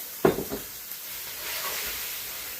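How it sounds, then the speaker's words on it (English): Shrimp dropped into a hot pan with asparagus, a sharp clatter as they land, then a steady soft sizzle that settles into a low continuous hiss. "Now what we're going to do is we're going to go in with the shrimp."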